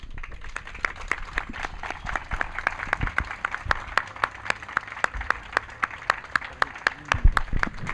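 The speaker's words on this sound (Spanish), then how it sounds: "un fuerte aplauso para el maestro Virgilio Caballero" Applause for Virgilio Caballero after his presentation of a book at a public event: clear, evenly paced claps ring out over a softer bed of crowd clapping, continuing steadily throughout.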